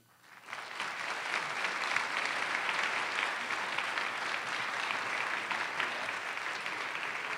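An audience at an awards luncheon breaks into applause for the award winners, the clapping swelling quickly from quiet to a full, even roar that holds steady to the end.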